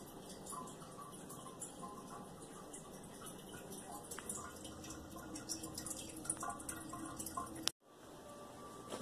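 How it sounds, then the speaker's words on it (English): Steady running water as something is washed off under a tap, a constant hiss with faint drips and clinks, cutting off briefly near the end before resuming. "I need to wash this thing off."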